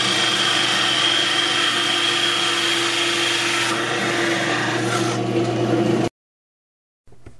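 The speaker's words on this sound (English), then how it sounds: "I'm using a 1 1/4-inch hole saw for this, and that's how I'm cutting my wheels out." A 1 1/4-inch hole saw cuts toy truck wheels out of walnut, a loud continuous grinding whine that holds steady for about six seconds before cutting off abruptly, followed by a faint knock.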